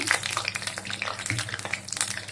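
Urad dal vadas fry in hot oil, a dense, continuous crackle and sizzle with sharp pops scattered throughout, loud and close with no voices.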